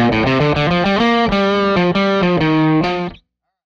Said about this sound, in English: Here's the sound of my guitar without the Pitchfork activated.